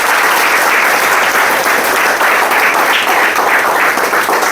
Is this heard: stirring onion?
no